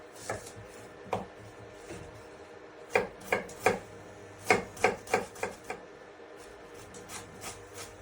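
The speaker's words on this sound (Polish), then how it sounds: "cebulkę, drobno posiekamy." An onion is finely chopped with a knife on a board, with irregular knocks that gather into a quick run of about eight crisp cuts midway, then a few lighter taps.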